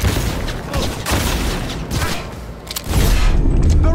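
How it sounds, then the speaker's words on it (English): Gunfire during a firefight in the Cyberpunk 2077 video game, a dense continuous barrage of shots and booms, loud and close throughout. "They're opening fire!"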